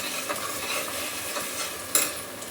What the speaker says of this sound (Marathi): आता फास्ट गॅसवर ही चटणी मी परतून घेतली.